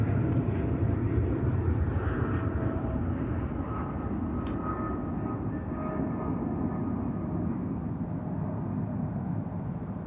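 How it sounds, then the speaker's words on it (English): A FedEx Boeing 777 rolls for takeoff at Sydney Airport, its engines a loud, steady broadband roar that holds for the whole stretch with a slight easing toward the end. "FedEx 777 now is rolling."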